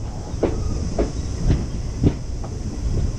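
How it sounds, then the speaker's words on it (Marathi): A train rolls past nearby at Savarda railway station, wheels clacking over rail joints in a steady rhythm beneath a constant rumble. "आपण आलो आता सावर्डा रेल्वे स्टेशन"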